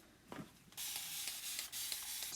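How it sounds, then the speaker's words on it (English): A spray bottle squirts water in a quick run of hissing bursts, close and fairly quiet, after a brief faint knock. "spray it with more water."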